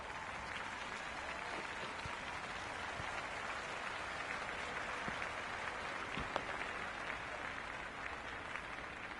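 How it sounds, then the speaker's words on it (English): Crowd in the Cricket 26 video game cheers and applauds during a match, a steady broad roar of clapping and cheering that holds at moderate level without letup. "The crowd is electric right now."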